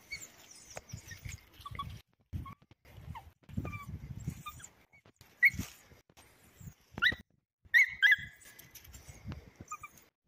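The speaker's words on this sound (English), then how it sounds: "the dog was getting pretty upset" An upset dachshund whimpers and yips in short bursts, mixing high whines with sharp barks, close and intermittent with snuffling and rustling between the sounds.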